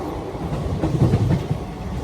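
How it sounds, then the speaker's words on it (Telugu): A Kacheguda Express running from Chengalpattu overtakes a local train bound for Chennai Beach, giving a steady, close rolling rumble with a faint rhythmic clatter of wheels throughout, no voices. "మన ట్రైన్ లోకల్ ట్రైన్ని ఓవర్టేక్ చేయబోతుంది"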